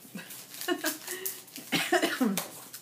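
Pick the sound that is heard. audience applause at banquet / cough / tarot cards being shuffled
cough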